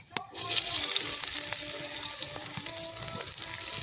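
Onion frying in a pan with ginger and garlic for a country chicken and egg curry: a steady, close crackling sizzle that starts with a sharp clatter and then holds loud throughout, with no talk.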